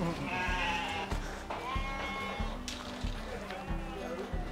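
Sheep of Dorper, Suffolk and Texel breeds bleat in a farm pen, several wavering calls overlapping across the clip amid steady background noise and people talking.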